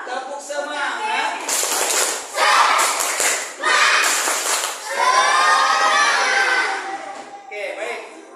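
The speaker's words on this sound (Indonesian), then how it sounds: "tepuk semangat" A school class claps in a rhythmic tepuk semangat pattern, loud and close, in several bursts of fast claps with short pauses between them and children's voices shouting along.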